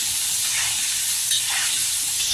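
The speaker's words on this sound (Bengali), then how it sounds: "এখন আমি আলুগুলো ভেজে নেব।" Potatoes frying in hot oil with turmeric in a heated pan for a duck curry, giving a steady loud hiss and sizzle throughout with no pauses.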